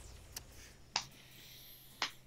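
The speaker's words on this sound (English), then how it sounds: "Slow clap, really?" Three sharp slow claps sound in the World of Final Fantasy video game, spaced out and fairly faint over a low steady hum, with no talk.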